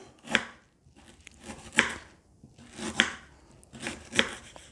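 Ginger being chopped finely with a knife on a board: four distinct, evenly spaced chops about a second apart, close and crisp, with quiet gaps and no talking.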